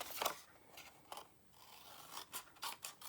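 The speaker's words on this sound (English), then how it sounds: "So just kind of cut it diagonal" Scissors snip diagonally through designer series paper for a mini card album, several quiet close cuts in an uneven rhythm with short pauses between, no talk.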